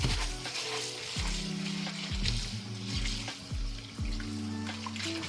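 Rice is rinsed in water in a kitchen cooking pot, with swishing, sloshing water and repeated hard scrapes and knocks against the pot, close and continuous with no speech.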